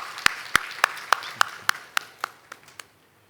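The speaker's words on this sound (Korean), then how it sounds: "우리 주님께 감사와 영광의 박수를 드리겠습니다." Congregation at a Wednesday church service clapping in unison: about a dozen sharp, evenly spaced claps that gradually fade in a reverberant hall.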